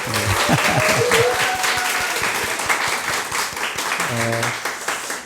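A church congregation breaks into sustained applause, with many hands clapping densely and steadily, while a voice speaks over it briefly.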